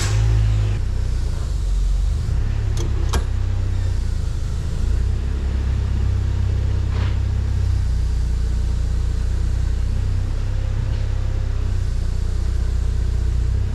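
A Jeep TJ with the 2.5 engine idles steadily in a garage after a new LUK clutch install, a low continuous rumble with a couple of brief sharp clicks near the start.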